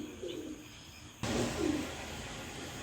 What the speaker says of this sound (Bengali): খুব সুন্দর দেখার মতো এক পেয়ার কবুতর